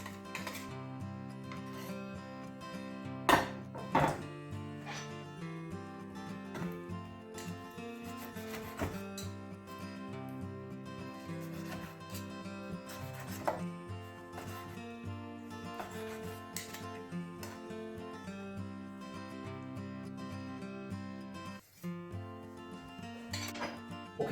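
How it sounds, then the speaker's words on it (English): A knife slicing cooked steak on a board for a steak sandwich: steady, close rasping cuts with soft knocks against the board, quiet and continuous, with no talk. "so now we're just going to slice our steak"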